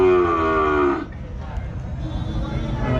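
A crossbred cow at the Rajshahi city livestock market gives one loud, close, drawn-out moo that stops after about a second, followed by a low bustle of market noise.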